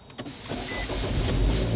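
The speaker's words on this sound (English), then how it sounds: "Press the start button. And here we go." A Nissan Altima engine is started with the push button: a few quick clicks, then the engine catches and settles into a close, steady running rumble.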